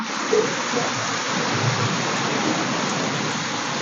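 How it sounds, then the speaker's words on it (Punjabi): Steady, dense rain pouring down, a continuous broadband hiss at even loudness throughout, with no talking. "ਅੱਜ ਮੀਂਹ ਆ ਗਿਆ"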